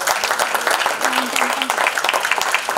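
Audience applause at a Mumbai film-industry tribute event for Balasaheb Thackeray's birth anniversary, a dense steady wash of clapping lasting a few seconds with voices faintly mixed in.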